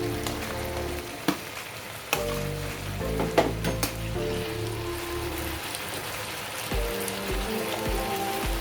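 Mixed vegetables and half-fried paneer frying in a pan with chaat masala, giving a steady close sizzle broken by occasional stirring clinks and scrapes.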